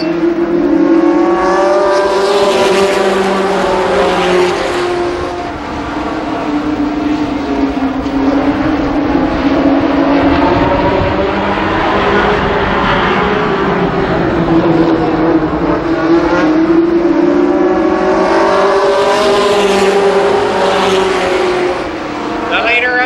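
Race cars at Columbus Motor Speedway roar past in a loud, continuous engine drone that swells and fades as the pack circles the track, with a track announcer talking over it throughout.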